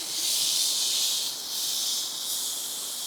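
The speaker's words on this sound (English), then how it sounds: "we're going to finish this steak off with a sear for about a minute each side on this upside down grill grate" A steak sears on an upside-down grill grate on a beach, giving a loud, steady, broadband sizzle and hiss that swells slightly and dips without any talking.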